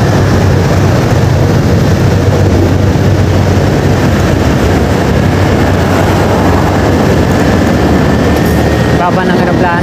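Airplane taking off near NAIA airport in Manila, a loud continuous low engine roar mixed with steady road traffic noise, filling the whole stretch without pause.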